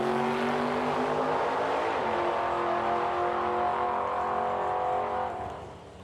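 A 1966 Chevelle launches at a drag strip, its engine roaring loudly as the pitch climbs through the gears, then fading as the car pulls away into the distance.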